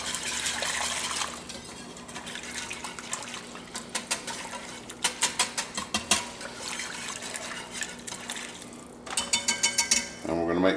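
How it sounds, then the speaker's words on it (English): A whisk or spoon stirring brown gravy mix into broth heating over medium heat, giving repeated quick scraping clinks against the pot in bursts, with some liquid sloshing. "Now we need to start mixing in our gravy."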